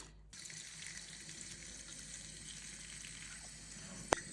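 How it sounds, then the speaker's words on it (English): Water pours steadily into the soil of a potted plant in a continuous soft splashing trickle, close by, ending with a brief clink. "now I'm just going to water this thoroughly"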